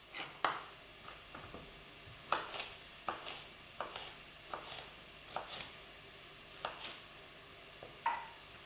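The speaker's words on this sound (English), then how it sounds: "Just keep giving your onion a wee stir every once in a while, just to make sure it all cooks evenly." An onion frying in a pan for tomato pasta sauce is stirred now and then, each stir giving a short scraping clatter over a steady low sizzle, about a dozen separate strokes with no talking.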